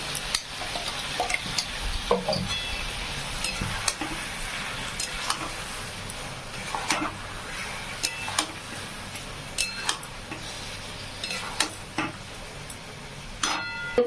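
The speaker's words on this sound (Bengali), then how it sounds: "যেহেতু তেলের মধ্যে মাংসটা ফ্রাই করে দিচ্ছেন" Chicken pieces frying in hot oil and being stirred in a home kitchen pan for a chicken dum kosha, with a steady close sizzle broken by scraping and clicking spoon strokes throughout, no voices.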